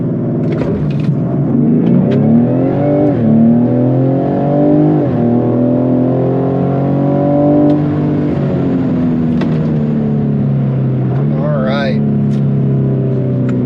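A Ford Explorer ST fitted with a ProFlow intercooler power pack, in sport mode for a 0-60 run, gives a loud, steady engine drone that swells and rises in pitch, with voices over it.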